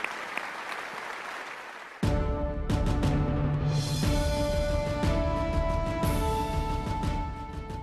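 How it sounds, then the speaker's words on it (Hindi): Enthusiastic audience applause at the ARY Film Awards 2016 ceremony breaks out suddenly after a quiet stretch, then stays as a dense, loud wash of clapping with scattered sharper claps until it eases slightly at the end. "बहुत सारी तालियां सरमत के लिए होनी चाहिए"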